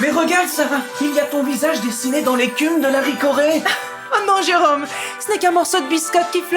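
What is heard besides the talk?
No everyday noise stands out behind the speech.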